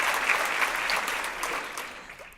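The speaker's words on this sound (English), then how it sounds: "So round of applause for Lesley for that." Conference audience at a women and leadership keynote gives warm, steady applause, a dense wash of many hands clapping in a large room, fairly loud and gradually fading.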